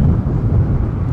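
Strong wind buffets an outdoor microphone near a railway line, producing a loud, low, rumbling roar that fills the whole moment without any voices.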